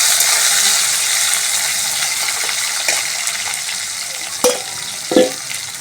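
Tomato, ginger, cumin and bay leaf frying in a hot pan give a steady, close sizzle throughout, broken near the end by a couple of sharp clacks of a spoon against the pan.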